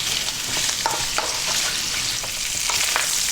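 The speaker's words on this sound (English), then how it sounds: "we're going to fry this around for about 4 minutes in this pan" Pork pieces frying in a hot pan give off a loud, continuous sizzle, with faint scrapes as they are kept moving.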